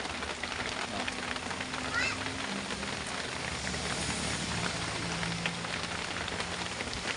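Heavy rain falls on a road near a dam, a steady dense hiss that fills the whole scene with a low vehicle rumble underneath. A few faint call-like tones rise briefly above it.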